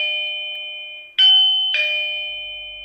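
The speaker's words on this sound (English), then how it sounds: "Chime sound number 1." Two-tone electronic chime from an Aosu video doorbell homebase, setting number 1: a sustained tone, then two bright struck notes about half a second apart ringing out cleanly with no talking.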